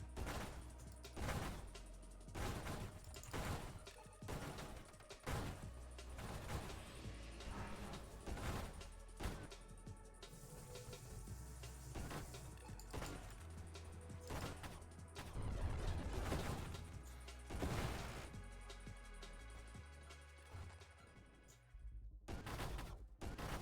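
Video-game gunfire aimed at a ship's weak points: a long string of sharp, separate shots and blasts at an uneven rhythm, with a steady tonal game soundtrack underneath throughout.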